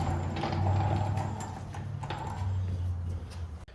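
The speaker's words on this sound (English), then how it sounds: "I torque in a crisscross pattern and go around a second time to verify I didn't miss anything on both sets of wheels" A torque wrench tightens the lug nuts on a Hyundai Elantra wheel, giving a steady ratcheting, mechanical grinding close by with short pauses between pulls.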